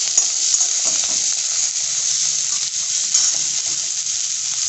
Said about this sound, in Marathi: कांदा आता व्यवस्थित छान परतलेला आहे